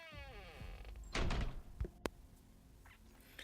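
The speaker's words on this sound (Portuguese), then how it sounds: "girei a maçaneta, abrindo a porta do quarto 7." Someone turns a handle and opens the door of room 7 in an eerie house. A brief rattling burst is followed by a sharp knock-like thud, set against a low, murky background drone.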